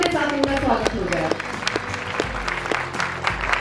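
An awards-ceremony audience in Jaipur applauds in scattered claps to welcome the city mayor, while a voice and a sustained tonal sound carry over the clapping at the start.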